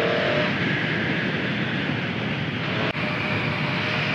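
A 2019 Triumph Street Triple 765 RS motorcycle on the move, steady dense engine and wind roar heard from the rider's position, continuous and fairly loud with a brief dip near the end.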